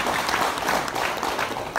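Audience applause at an inauguration ceremony for a youth organization's board, brief dense steady clapping from a crowd throughout.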